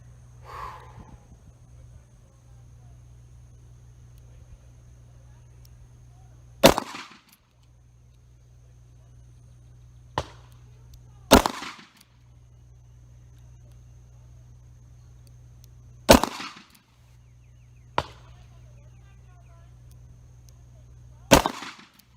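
Ruger LCRx 3-inch .38 Special revolver firing Federal 148-grain Gold Medal Match wadcutters: sharp, loud reports spaced several seconds apart over a steady low hum, a few fainter clicks between shots.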